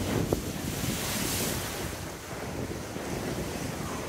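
Sea surf off Anglesey washes steadily as wind buffets the microphone, a continuous broadband rush with a brief knock near the start and no voices.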